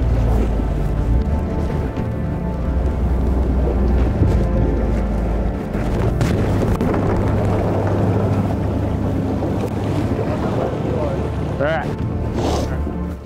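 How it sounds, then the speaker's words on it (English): Strong wind roars over a protected bay in Maine while a sea duck hunting boat is launched, a steady loud rush buffeting the microphone as someone talks over it. "We knew it was going to be windy today, and it is cranking even in the protected bay here"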